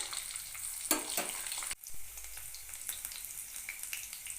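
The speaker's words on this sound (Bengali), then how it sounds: "কড়াইতে পরিমাণ মতন সর্ষের তেল দিয়ে দিলাম কড়াইতে ছোট চামচের এক চামচ পাঁচ ফোড়ন এবং একটা কাঁচা লঙ্কা কুচি করে নিয়েছিলাম দিয়ে দিলাম" Panch phoron spices and chopped green chilli frying in mustard oil in a kadai for a potato and cauliflower fry, a steady close hiss and crackle with a brief louder burst as they hit the oil, no talk.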